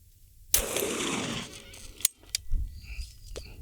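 A Heckler & Koch P7 pistol fires one loud, sharp shot whose roar rings and fades over about a second, followed by a few brief metallic clicks.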